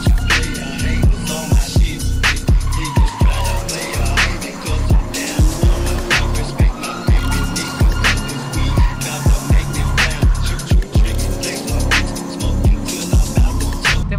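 A Volvo 940 is driven in a drift, its engine loud and close as it revs in repeated surges, and sharp bursts of tire noise and skidding recur throughout with no talking.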